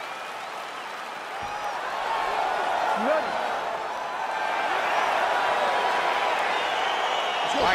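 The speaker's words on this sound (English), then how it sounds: "crowd getting excited as this fight gets underway" Arena crowd noise in the EA Sports UFC 4 fighting game as a bout begins: continuous applause and cheering that swells after the first couple of seconds and stays loud, with a commentator talking over it.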